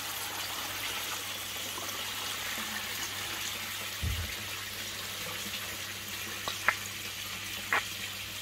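Water spilling over from a koi pond filter, a steady close trickle and splash broken by a few faint knocks and clicks.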